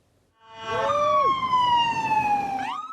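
An ambulance siren on a 999 call-out in Salisbury wails in a single loud, close tone that slides slowly downward and then swoops back up sharply, over a low road rumble.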